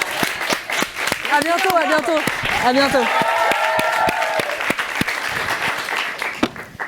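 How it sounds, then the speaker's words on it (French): Audience applause at a televised back-to-school student show, a steady wash of clapping lasting several seconds, with voices and laughter talking over it throughout. "on peut l'applaudir"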